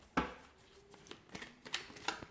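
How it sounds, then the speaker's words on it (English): Tarot cards shuffled by hand in a short burst of crisp riffling and slapping clicks, several distinct card strikes spread across the moment, close and quiet with no talking. "We'll go ahead, give the cards a shuffle"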